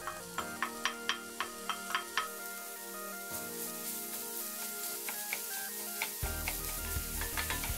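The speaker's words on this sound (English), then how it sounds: "Keep stir frying until cooked through." Ground pork sizzles steadily in a hot frying pan without oil, with a regular series of sharp scraping taps as it is stir-fried, no talking.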